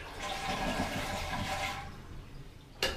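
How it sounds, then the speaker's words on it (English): A toilet flushes with a rushing swirl of water for nearly two seconds, then tails off, ending with a short sharp click. "We'll give her the big final flush."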